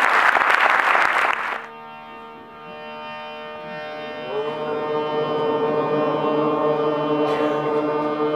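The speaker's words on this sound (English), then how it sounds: "A round of applause for this gentleman." A short burst of audience applause in a hall at a devotional bhajan gathering, loud for about a second and a half before giving way to sustained harmonium-like tones.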